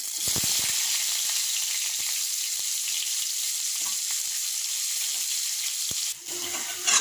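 Onion dropped into hot oil with five-spice (panch phoron) in a pan, producing a loud, continuous sizzling hiss with a few stirring knocks early on and a brief dip near the end.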